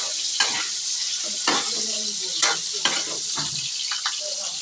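Pork adobo sizzles in a hot pan with a steady hiss while a utensil stirs it, scraping in several short, irregular strokes close by.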